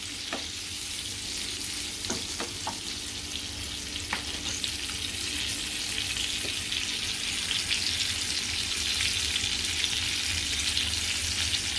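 Stuffed masala pomfret fries steadily in a pan over medium gas, a continuous close sizzle with occasional faint clicks and taps.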